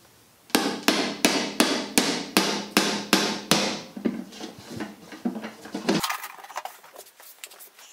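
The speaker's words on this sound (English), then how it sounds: "just give it a whack with a hammer, and it'll either cut the nail or pull it right out" A hammer strikes a metal scraper in a steady series of about ten sharp, ringing blows to cut or pull brad nails from a wooden drawer back, then lighter scraping taps as the work loosens.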